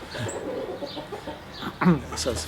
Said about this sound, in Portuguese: É uma galinha bem pequena que põe ovos, quase do tamanho dos ovos normais